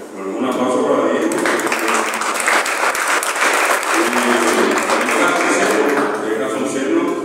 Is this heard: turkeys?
no